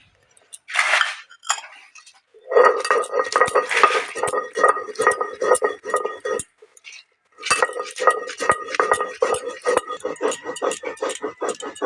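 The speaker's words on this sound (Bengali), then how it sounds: "এই জলের মধ্যে দিয়ে দিচ্ছি 2 চামচ পরিমাণ লবণ এবং 2 চামচ পরিমাণ চিনি।" A metal spoon stirs salt and sugar into water in a bowl for dahi vada, giving rapid rhythmic clinks and scrapes in bursts with short pauses, close and fairly loud.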